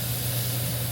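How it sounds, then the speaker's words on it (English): Cooking oil spray hisses onto raw shrimp in a kitchen, a steady close, continuous aerosol spray lasting the whole moment with no pauses and no talking. "now I'm gonna spray this side again with some light spray"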